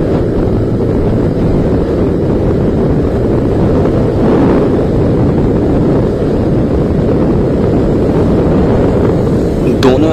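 A cheap Suzuki Gixxer motorcycle speeding down a highway, heard as a steady loud engine drone blended with rushing wind noise for the whole stretch.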